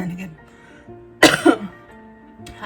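A person with lung cancer gives a sharp, close double cough, two quick harsh bursts over a quiet tonal background.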